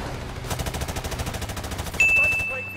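Rapid automatic gunfire rattles continuously during an on-rails shooting sequence in Modern Warfare Remastered, ending in a sharp ringing tone and louder blast near the end.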